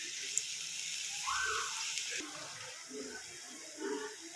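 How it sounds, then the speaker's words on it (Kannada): Water pours into a hot pan of fried beetroot with a continuous rushing hiss that holds steady and fairly quiet; a voice murmurs faintly in the background. "ನೀರು ಹಾಕ್ಕೊಳ್ತಾ ಇದ್ದೀನಿ."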